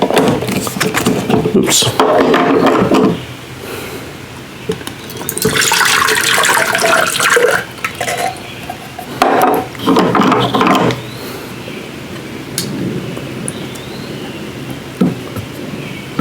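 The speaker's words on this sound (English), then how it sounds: "if I find the opener. 1 can of the evaporated milk." A manual can opener cranks around a can of evaporated milk in a home kitchen, a close rattling ratchet grind that comes in bursts, with a person talking in between.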